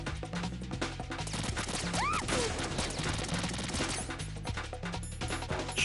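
Gunfire from a PSG-1 sniper rifle in Metal Gear Solid 2, loud shots and impacts crashing over a dense, busy game soundtrack with music and effects throughout, a sweeping tonal whoosh passing midway.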